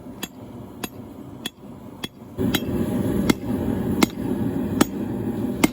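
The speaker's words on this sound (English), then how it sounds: "Right here I'm hammering out the bevels and the false edge" Steady hammer blows on metal as a saber-type knife's bevels are forged, about nine sharp ringing strikes at an even, unhurried pace, with a low background hum joining partway through.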